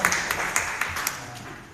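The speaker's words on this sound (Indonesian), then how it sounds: "Coba kita berikan tepuk tangan yang meriah buat Mas kita" Classroom applause for a student, a brief burst of scattered hand claps with a few sharper peaks that quickly thins out, fairly close, with no talking over it.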